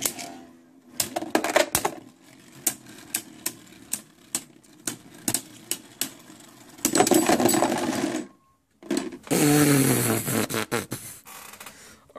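Hasbro Beyblade Burst tops Doomscizor D2 and Evipero E2 battling on a free-spinning track, giving sharp repeated clicks and clacks of collisions, then a sustained whirring, grinding burst as the spinning tops scrape against each other.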